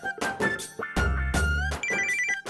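A telephone rings in a Tamil TV serial scene, repeated electronic ringtone bursts with tonal harmonics, loud and close, alternating with short gaps and a low droning hum in the middle.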